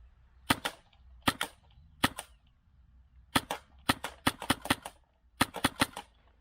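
An airsoft gun fired at a target while zeroing its sight, giving a series of sharp, close snapping shots, some single and some in quick clusters, with short gaps between them.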